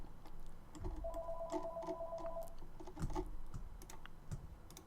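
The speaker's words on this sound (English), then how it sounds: "There's the phone." A telephone rings once in a room during a 3D modeling tutorial, a steady electronic warble lasting about a second and a half, mixed with keyboard typing and mouse clicks, moderately near.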